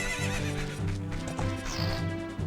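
A horse in The Legend of Zelda: Ocarina of Time neighs over clip-clopping hooves and game music, a clear whinny rising near the middle of the short stretch.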